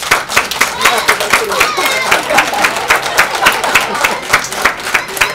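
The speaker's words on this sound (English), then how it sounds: "Let's give them another round of applause for all the great work." An audience applauds at a child development center's nursery rhyme performance, loud, steady rapid clapping from a crowd, continuous for several seconds.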